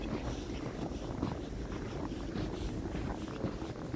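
Gusty wind from a night-time snowstorm roars steadily into the microphone as a dense, rumbling buffeting that stays fairly faint and unbroken throughout.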